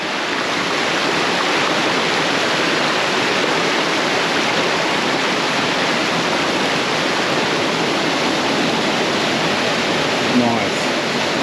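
Small waterfalls tumble along Fall Creek in Henry Cowell State Park's redwood forest, giving a steady, loud, unbroken rush of falling water close by with no pauses.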